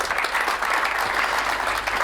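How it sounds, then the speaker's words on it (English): Steady applause from a conference audience at a droidcon Android developer talk, dense continuous clapping filling the whole moment without any voices. "A round of applause for Stack Overflow"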